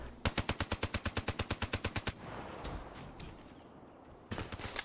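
Rapid bursts of automatic gunfire from a video game shooter match, a fast even string of about twenty loud shots, then a lull with softer scattered noise before another short burst closes it out.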